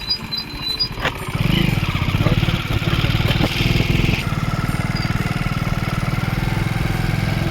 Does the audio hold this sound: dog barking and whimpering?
no